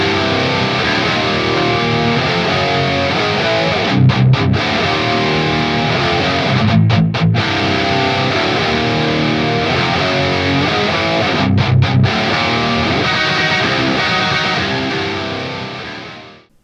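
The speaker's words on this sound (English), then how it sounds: "Let's listen to a sound example with one of the 4x12 cabinets using the high gain voicing." An electric guitar with high-output humbuckers plays through a 4x12 cabinet on a high gain voicing, giving a loud, thick, distorted riff with rhythmic palm-muted chugs and brief stops, ringing out and fading at the end.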